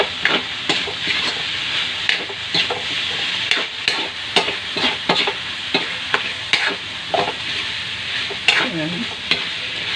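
A spatula scrapes and stirs cabbage roll filling seasoned with oyster sauce in a sizzling frying pan, with repeated rhythmic scraping strokes over a constant close frying hiss.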